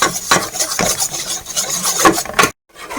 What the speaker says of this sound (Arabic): تحركي حتى تتحمر كامل وتتحمص هذيك الفرينه